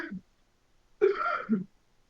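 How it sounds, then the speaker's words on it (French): A person coughs, one brief rough burst followed after a pause by a longer throaty cough, fairly quiet in a silent room. "Papa qui tousse"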